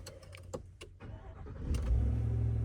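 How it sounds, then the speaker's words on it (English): A 2025 Chevrolet Silverado 1500 LT Trail Boss pickup engine cranks after a few clicks and catches, settling into a loud, steady idle rumble close by. "let's turn on the engine."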